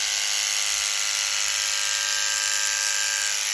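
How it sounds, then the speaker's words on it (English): Electric clippers buzz continuously and loudly through a miniature Shetland pony's coat, a steady high whine held close with no talking. "I'm newly clipping the seam."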